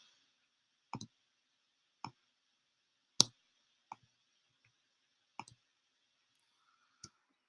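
Computer mouse clicks sound one at a time, six or seven sharp, isolated clicks spaced about a second apart over near-silence.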